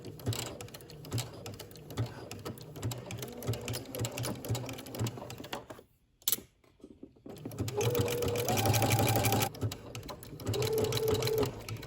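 Sewing machine stitching a dart through slinky fabric on a maxi dress, running in two steady bursts separated by a brief pause, close and fairly loud with a faint hum between runs.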